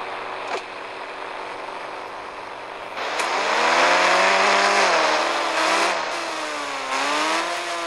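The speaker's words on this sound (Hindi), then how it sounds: "ओ कार कैसे चल रहा है?" Car engine in a dinosaur video game, a steady hum that swells into a loud revving drive with rising and falling pitch sweeps, alone with no talk.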